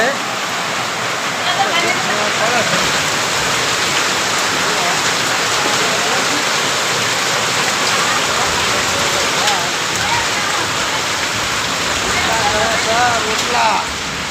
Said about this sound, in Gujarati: વરસાદ કેવું પડે